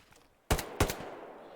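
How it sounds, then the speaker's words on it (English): Two sharp, loud gunshots about a third of a second apart in Hell Let Loose during an 18-versus-18 tournament match on Hill 400, each with a short ringing tail. "He's shooting a rock."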